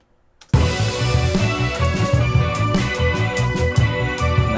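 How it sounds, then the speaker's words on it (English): An instrumental mix of the song begins after a brief near-silence, with loud full-band music, a steady pulsing low beat and layered sustained tones, no vocals. "And that's pretty much the instrumental mix."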